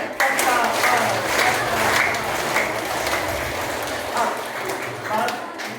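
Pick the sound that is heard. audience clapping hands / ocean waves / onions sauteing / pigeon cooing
audience clapping hands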